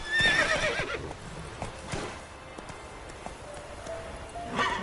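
Horse hooves clip-clop in a quick trot, accompanied by a loud neigh close by, in a short outdoor scene.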